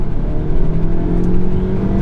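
The 2.0-liter turbocharged engine of a 2016 Hyundai Sonata Sport winds up under acceleration from inside the cabin, a steady droning hum with a rising turbo whir, continuous and fairly loud, with no distinct exhaust note.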